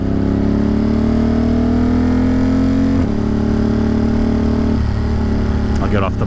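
A motorcycle loaded with stacked luggage idles loudly and close, a steady low throbbing drone with a slight pitch dip, and a brief rustle near the end.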